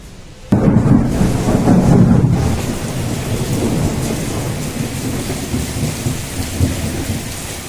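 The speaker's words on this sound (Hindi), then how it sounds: "आज शाम को आंधी पानी का बहुत ही तेज़ तांडव था" A thunderstorm with heavy rain bursts in with a loud rumbling crack of thunder, then settles into a dense, steady roar of rain pounding surfaces, close and loud throughout.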